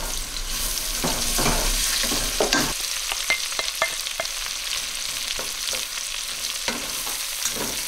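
Chopped onion sizzling in hot oil in a pan as a spoon stirs and scrapes it, a loud steady frying hiss with repeated clinks and scrapes up close.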